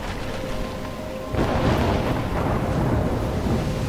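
A thunderstorm in the video game Life is Strange: a steady roar of heavy rain and wind swells into a deep rolling rumble of thunder that stays loud and continuous, with no voices.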